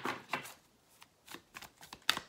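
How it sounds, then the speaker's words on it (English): A large deck of oracle cards is shuffled by hand in a quiet room, giving several soft riffling swishes and papery slaps at close range, separated by short pauses. "All right, I'm going to do four shuffles and pull from the top."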